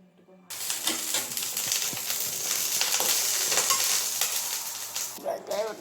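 Oil sizzles loudly and steadily on a hot tawa griddle while adai cooks, a continuous close frying hiss after a brief quiet start, with faint clinks near the end.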